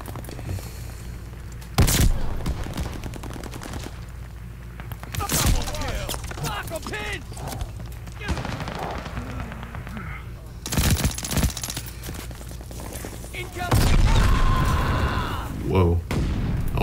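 Rapid machine pistol gunfire and explosions from a Call of Duty Vanguard match, with dense bursts of shots and several loud blasts, while a player talks over the game sounds.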